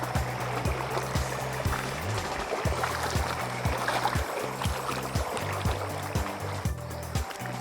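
River water runs steadily over a shallow crossing, a broad continuous rush close by, while a rhythmic low mechanical hum pulses underneath throughout.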